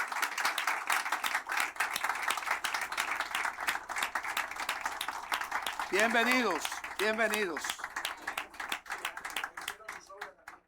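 A church congregation gives sustained applause with dense, rapid clapping, while someone speaks briefly over it near the end.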